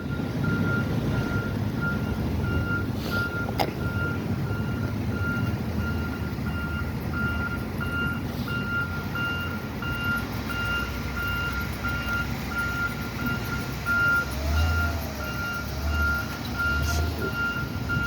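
A pickup truck's reversing alarm sounds as it backs into a driveway along a street, steady evenly spaced beeps at a moderate distance over a low engine rumble and traffic noise.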